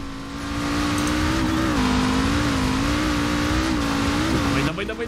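A Lamborghini engine in Forza Horizon 4 drones steadily at mid pitch, rising and dipping slightly as it accelerates, loud and continuous for several seconds.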